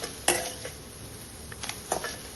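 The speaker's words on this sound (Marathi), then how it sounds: "कढईमध्ये थोडं असं फ्राय करून घ्यायचं शालो फ्राय" Bitter gourd slices stirred in a dry kadhai over low heat, giving a few sharp scraping clinks of a spatula against metal, sparse and fairly quiet.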